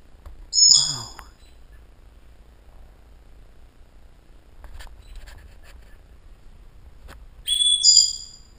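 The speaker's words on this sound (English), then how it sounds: "That's my parrot." A pet parrot gives two loud, shrill calls, one near the start and one near the end, with quiet room sound and faint clicks in between.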